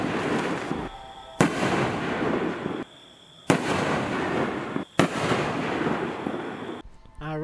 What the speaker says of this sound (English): that was Big Daddy by Pyro Diablo. Amazing, amazing canister